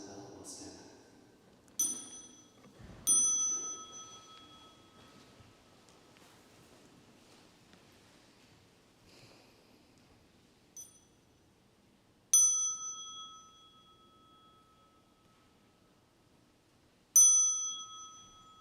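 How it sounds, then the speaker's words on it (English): A meditation bell is struck several times with clear ringing tones that decay slowly into a quiet room, separated by long silent gaps with faint rustling. "For the next sound of the bell, we'll stand up."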